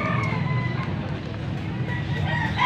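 Chickens cluck and crow in Angeles, Pampanga, after rain, over a busy background of distant voices and traffic, with no single call standing out clearly.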